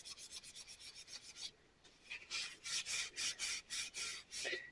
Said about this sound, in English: This is just green Scotch-Brite, by the way.